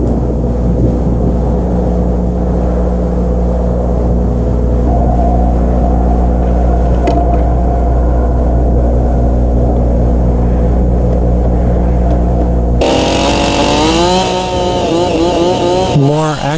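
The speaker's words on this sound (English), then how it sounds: "More accuracy with the chainsaw is obtained by walking the saw down the cut" A chainsaw runs loudly and steadily as it cuts wood to shape a tenon, a constant buzzing drone that shifts to higher, wavering revs near the end.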